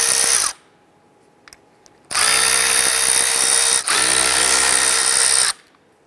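Two bursts of a cordless power drill backing out T30 Torx screws on a 2005-2010 Chrysler 300 front driver's side window regulator motor, a short whir, a pause, then a longer steady high whine, close and loud.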